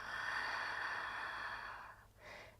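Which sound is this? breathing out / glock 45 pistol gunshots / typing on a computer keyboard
breathing out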